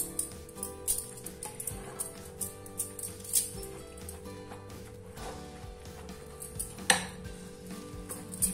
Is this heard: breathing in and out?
no